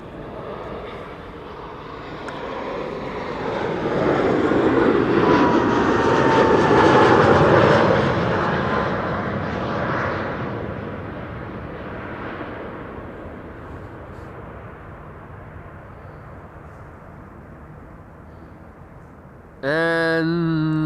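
A fixed-wing airliner arriving on the Polderbaan, runway 06 at Amsterdam Schiphol Airport, its engine roar swelling to a loud peak as it passes close, then fading into a long distant rumble before a brief sharper sound at the end.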